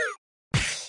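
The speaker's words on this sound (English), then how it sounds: "That's the sound of me slipping and falling." Slipping-and-falling sound effect: a brief sliding squeal, a short pause, then a heavy thud with a noisy crash that tails off quickly, close and loud.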